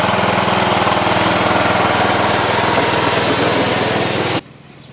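John Deere L108 automatic lawn tractor with an 18.5 horsepower Briggs & Stratton Intek overhead-valve single-cylinder engine running at a steady loud close chug, then cutting off abruptly near the end leaving quiet.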